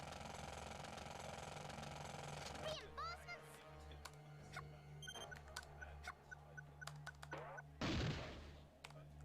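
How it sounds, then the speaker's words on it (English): Pneumatic drilling in Worms World Party Remastered, a rapid juddering burst of game effects near the end, amid other busy explosive and mechanical game sounds throughout. "We only have pneumatic drills to be able to do this."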